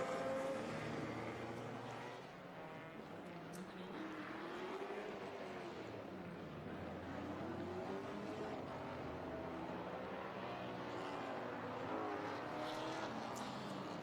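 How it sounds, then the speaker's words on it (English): Porsche GTS race cars rolling out of the last turn at Barber Motorsports Park ahead of a standing start, a steady, fairly distant engine drone with shifting pitch throughout, no talk. "Field making its way out of the last turn and coming up to set the stage for the standing start."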